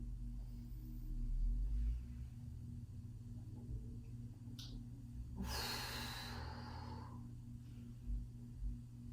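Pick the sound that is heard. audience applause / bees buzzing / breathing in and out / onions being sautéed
breathing in and out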